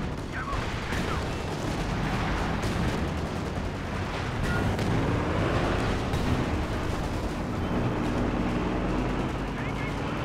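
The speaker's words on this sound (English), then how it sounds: "A lot of white phosphorus coming in. A few mortar shells as well." A dense, continuous barrage of white phosphorus and mortar shells in Company of Heroes 2 rumbles and crackles without pause, explosions overlapping into a heavy wash of battle noise with a voice faintly beneath.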